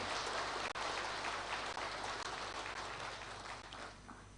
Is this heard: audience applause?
yes